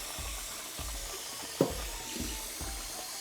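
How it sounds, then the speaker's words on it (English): Water swishes and splashes in a bowl as rice is rinsed by hand for a Persian lentil rice dish, close up, in several short rhythmic sloshes with one sharper splash partway through. "Every time you do this rinsing, the water gets clearer and clearer."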